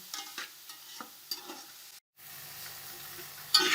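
Grated carrots fry in a pan for spring roll filling, soft sizzling with scattered stirring clicks, a short silent break, then a louder hiss toward the end.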